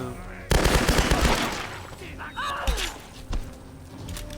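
Gunfire in the Tomb Raider video game: a loud burst of rapid shots starting abruptly, then scattered single shots and impacts, with voices talking over the game audio.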